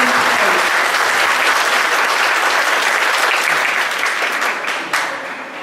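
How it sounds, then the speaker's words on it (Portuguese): Sustained, loud clapping from a ceremony audience at an honorary diploma award event, a thick even roar of many hands that tapers slightly near the end. "Uma salva de palmas para ele, porque ele merece"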